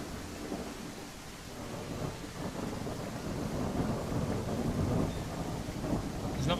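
Thunderstorm in a dinosaur survival game: steady heavy rain and wind with rolling thunder rumbling throughout, swelling louder in the second half, no voices.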